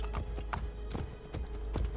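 Horse hooves clip-clopping in Assassin's Creed Brotherhood, a steady series of sharp close hoof strikes at a walking pace over a low continuous background hum.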